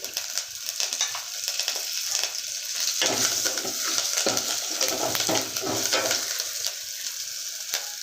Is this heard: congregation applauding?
no